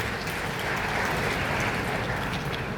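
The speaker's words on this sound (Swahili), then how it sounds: "Naomba tujipigie makofi." Crowd at a youth forum launch applauding, a dense, even wash of clapping held steady and fairly loud from start to finish.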